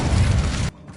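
An Incendio fire spell burst in the Hogwarts Legacy video game: a single loud, roaring whoosh of flame lasting under a second, then cutting off abruptly to quiet.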